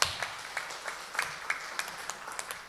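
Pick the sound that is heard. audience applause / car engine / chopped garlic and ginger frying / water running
audience applause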